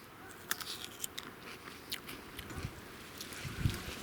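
Someone bites and chews crunchy grape berries of a table variety, producing a series of quiet, sharp crunches and clicks at close range over a soft background, with no talking.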